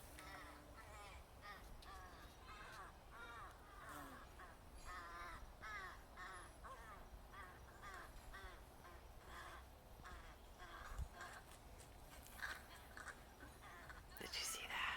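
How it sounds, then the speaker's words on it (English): Crows caw repeatedly in rough, evenly spaced bursts, fairly faint and distant outdoors, with a soft voice now and then beneath the calls. "what do you think these birds are doing?"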